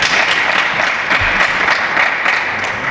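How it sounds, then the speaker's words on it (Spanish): Steady applause from an audience at a railway festival talk fills the whole stretch, a dense, continuous wash of many hands clapping with no speech over it. "Y un aplauso muy grande para ellos, por favor, lo pido."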